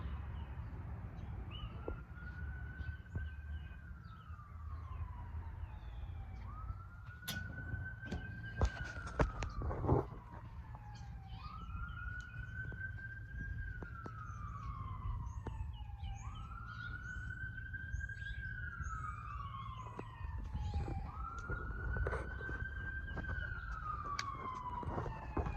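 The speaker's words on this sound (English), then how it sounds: "you hear sirens when you come outside constantly" Wailing sirens rise and fall in slow repeated sweeps, somewhat distant, over a low outdoor rumble with occasional brief clatters.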